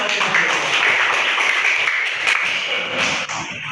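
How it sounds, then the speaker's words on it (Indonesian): A class of fourth-grade schoolchildren claps together in a classroom, a dense, steady burst of many small hands that goes on loud and without a break for several seconds. "Oke, tepuk tangan dulu."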